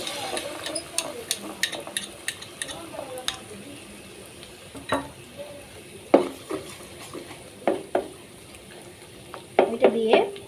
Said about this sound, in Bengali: তো ডিমটা দিয়ে দেওয়ার পর ভেজে নিয়ে